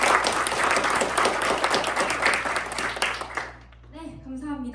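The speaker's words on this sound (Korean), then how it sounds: "박수 부탁드립니다" Enthusiastic audience clapping at a university mock cabinet meeting event, a full round of applause that fades out after a few seconds as a voice begins speaking over the quiet.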